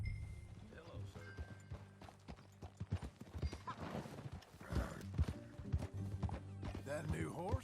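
Horse hooves clip-clopping in Red Dead Redemption 2, a steady walking rhythm of hoof strikes with a whinny, under background game music and people talking.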